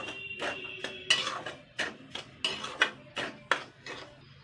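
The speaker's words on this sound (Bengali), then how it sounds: "এবার আমি এটাকে 2-3 মিনিট নাড়াচাড়া করে নেব, হালকা ভেজে নেবো আর কি।" Semolina is stirred and lightly toasted in a pan over medium heat. A utensil scrapes and knocks against the pan about a dozen times in a steady, uneven rhythm, close and fairly quiet.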